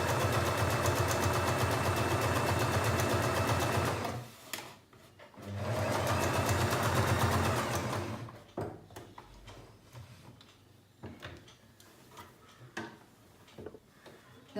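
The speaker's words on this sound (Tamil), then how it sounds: "இப்போ நம்ம 1/4 இன்ச் டிஸ்டன்ஸில் இது ஸ்டிச் பண்ணிக்கலாம்." A sewing machine stitches a churidar neck a quarter inch from the edge, running in two steady bursts of about four and three seconds, with soft handling clicks and fabric rustle after it stops.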